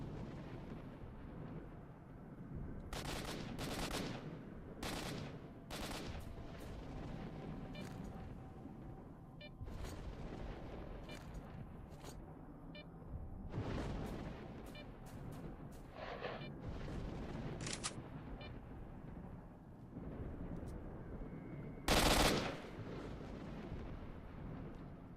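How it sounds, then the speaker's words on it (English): Shots ring out in S.T.A.L.K.E.R. Shadow of Chornobyl, a scatter of sharp single reports at a middle distance over a low rumbling ambience, with one louder blast near the end. "What's all this shooting?"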